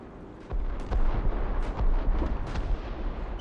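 A Matilda Hedgehog launcher fires in War Thunder, a salvo of repeated heavy booming blasts in quick succession, loud and rumbling, with no speech over it.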